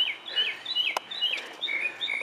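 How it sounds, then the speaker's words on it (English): Small birds squabble with quick, sharp overlapping chirps and tweets, close and fairly quiet, with one brief snap in the middle. "Bird fight."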